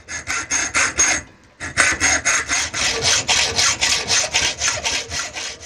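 A saw cuts a part for an adjustable bipod in close, rhythmic back-and-forth strokes, loud and rasping, with a brief pause after the first few strokes before the steady sawing resumes.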